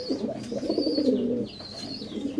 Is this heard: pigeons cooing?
yes